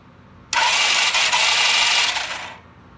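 Starter spinning over the engine of a vintage British motorcycle under restoration, a steady close whirring churn lasting about two seconds before cutting off, with no firing heard.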